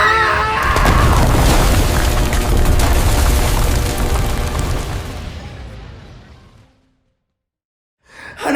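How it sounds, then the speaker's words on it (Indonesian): An earthquake sound effect gives a loud, deep rumble that holds for several seconds, then fades into silence before a faint sound returns at the end. "gempa bumi sudah berakhir anak-anak"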